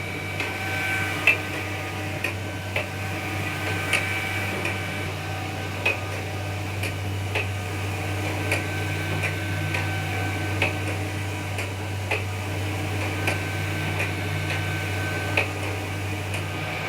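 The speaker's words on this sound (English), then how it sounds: "You can see that the printer is printing a layer of white ink as a base" An Océ Arizona 550 GT flatbed printer laying down a base layer of white ink: a steady mechanical hum with a constant low drone, marked by faint regular ticks about every second or two.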